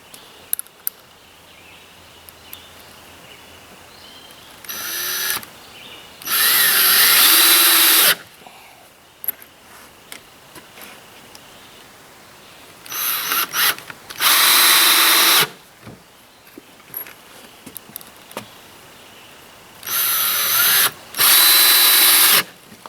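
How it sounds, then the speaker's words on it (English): A power drill drives screws into the floor framing of a tiny house on wheels, with several loud whirring bursts of a few seconds each, separated by quiet pauses and small handling clicks, close by and without talk. "Double check my spacing and screw it in place."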